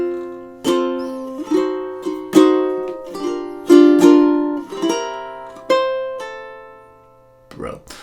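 A ukulele plays the first two measures of a melody slowly, about ten clear plucked notes ringing and decaying one after another, close and alone, with a brief noise at the end.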